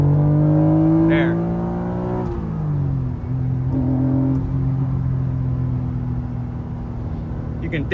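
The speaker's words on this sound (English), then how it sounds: "You can definitely hear the VTEC" An Acura NSX engine revs hard from inside the cabin, its tone climbing steeply through the VTEC crossover, then dropping at a shift and climbing again in a strong, continuous, close drone.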